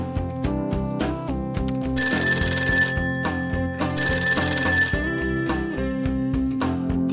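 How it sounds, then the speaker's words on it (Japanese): A telephone in the Persona 5 Tactica video game rings in bright, repeated trilling bursts laid over rhythmic background music, loud and near. "電話か。"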